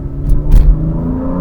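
A BMW F80 M3 engine revs as it accelerates in second gear at around 40 km/h, a loud, close, rising growl with a short burst of roaring intake noise in the middle.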